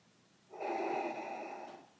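A single drawn-out snore for sleeping banthas, a breathy, nasal, rasping tone lasting about a second, close and moderately loud against a quiet background.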